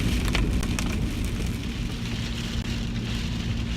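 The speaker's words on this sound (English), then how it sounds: "it is really raining buckets right now, so I feel like I have to sort of shout over the raindrops on the windshield" Heavy rain drums steadily on a car windshield during a drive, a dense continuous patter with low road rumble underneath, close and loud throughout with no voices.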